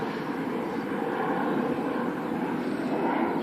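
A fixed-wing airplane that has just taken off passes overhead with a loud, steady, broadband engine roar that holds for several seconds.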